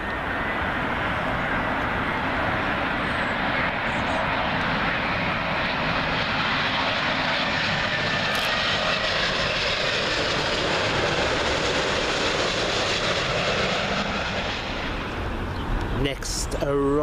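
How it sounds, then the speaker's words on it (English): A heavy Finnair Airbus A350 in from Helsinki lands at Heathrow, its engines a sustained loud roar that swells and holds, then eases near the end as a brief sharper noise cuts in. "Here comes that big heavy Finnair A350 in from Helsinki"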